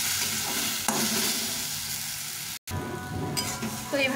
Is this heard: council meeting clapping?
no